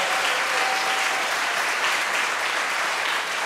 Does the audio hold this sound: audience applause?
yes